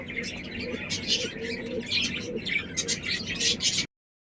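Black and white Lotan pigeons coo softly and repeatedly at close range, mixed with brief chirps, before the sound cuts off abruptly.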